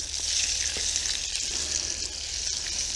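Food frying in a pan while cooking outdoors, a steady bright sizzle hissing continuously at close range over a faint low background hum, with no voices.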